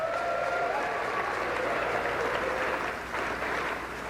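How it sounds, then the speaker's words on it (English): Sustained applause from a large crowd at the opening ceremony of the Ontario Parasport Games, steady and dense for the whole stretch, easing slightly near the end. "Give them all a big round of applause."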